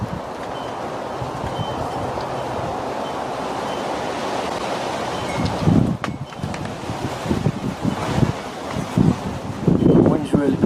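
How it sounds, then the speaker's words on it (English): Strong wind gusting across a microphone outdoors at an air rifle pellet test, a loud steady roar with heavier buffeting in the second half and no talking. "The wind's really blowing,"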